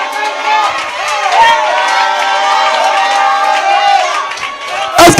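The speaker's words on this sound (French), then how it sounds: "Dites Amen, l'église, poussez des cris de joie." A church congregation cheers and shouts for joy, a loud, dense crowd roar with whoops that carries on without a break and swells at the end.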